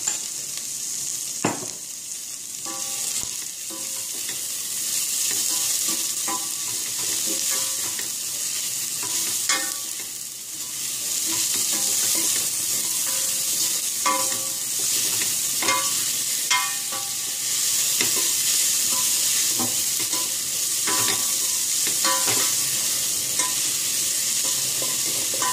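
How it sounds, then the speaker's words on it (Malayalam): Onions sauté in a pan with salt, a steady close sizzle lasting the whole time, broken by repeated clinks and scrapes of a stirring spoon, with no one speaking. "വഴറ്റണം സവാള വേഗം വഴന്ന് കിട്ടാൻ വേണ്ടിയിട്ട് കുറച്ച് ഉപ്പ് ഇടാം"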